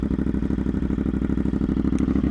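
A CFMOTO 450SR 2023 motorcycle with an aftermarket exhaust idles close by, a throbbing, evenly pulsing low engine note with mechanical clatter, steady throughout.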